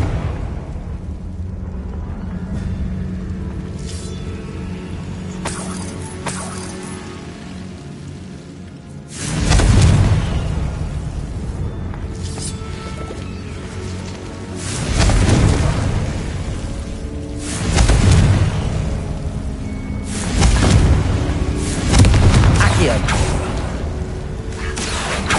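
Explosive spell blasts from Bombarda and Confringo cast in a magic video game, a series of loud booming bursts with rumbling crackle, several heavy hits landing over a steady low background.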